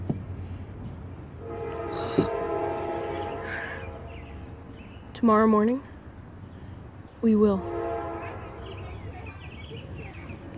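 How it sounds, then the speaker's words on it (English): A train rumbles past and sounds its horn in two loud, separate blasts, with people talking throughout. "The train is coming."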